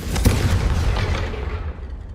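A Confringo fire spell explodes in Hogwarts Legacy, a sharp loud boom with a rumbling low tail that fades over about two seconds.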